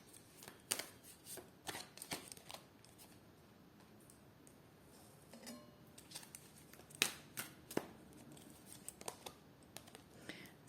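Tarot cards are shuffled close by in a quiet room, soft papery riffles and scattered taps in irregular bursts, faint, with no talk.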